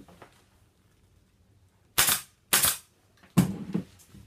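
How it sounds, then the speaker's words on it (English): A staple gun drives staples through bonded polyester on a Parsons chair: three sharp, loud snaps, two close together and then a third, after a quiet stretch with faint handling noise. "when I'm putting this staple in, I'm pulling it down"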